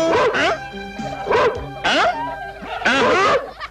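A human voice imitates a dog, giving several loud, yappy barks in quick bursts with short pauses between them.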